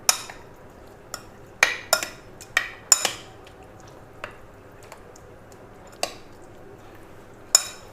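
Spoon scraping and clinking against a pan while tomato garlic chutney ingredients are stirred together, with a dozen irregular sharp knocks spread over a quiet background, close and fairly clear.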